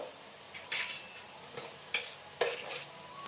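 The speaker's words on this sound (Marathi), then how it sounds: "आता हे छान परतून घेते" Spices with turmeric, coriander powder, cumin powder and asafoetida sautéing in a pan, a soft sizzle broken by several sharp scrapes and clinks of a spoon stirring against the metal.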